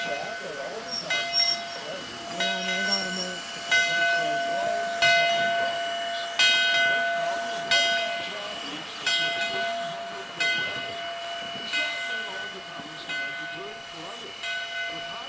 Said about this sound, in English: Now the train's backing out of the station.